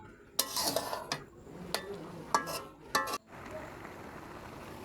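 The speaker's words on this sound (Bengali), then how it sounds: "তো এই আমার রেস্টে রাখা আমড়াগুলো আমি কড়াইতে দিয়ে দিব।" Hog plums tipped into a metal wok and covered with a lid over low heat while making a pickle: a few sharp clatters and clinks of metal, close by, with no talk.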